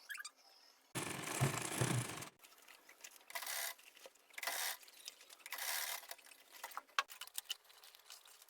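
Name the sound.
sewing machine stitching around an Ankara crossbody bag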